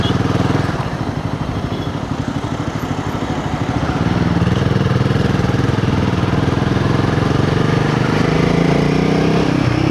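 A 2025 Royal Enfield Himalayan 450 motorcycle fitted with a Fuel X Pro Plus dual O2 sensor module rumbles steadily while riding, a loud, continuous exhaust note that grows slightly louder partway through, with no speech.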